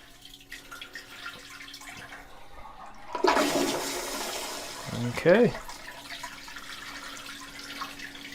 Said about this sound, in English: So now I'm going to do a test flush.